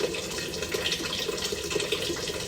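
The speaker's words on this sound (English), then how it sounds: "Adding water to my soup." Steady stream of water poured into a pot of rice soup, a continuous close splashing and gurgling with no talking.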